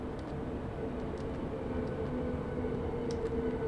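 Berlin U-Bahn U1 subway train in the SubwaySim 2 video game, a steady rumbling drone of the running train with faint high squeals throughout.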